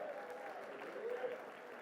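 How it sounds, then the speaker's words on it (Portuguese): Steady applause from a church congregation for the music group, a dense even patter of clapping holding at moderate volume for a couple of seconds. "Você pode dar uma salva de palmas para o grupo de música."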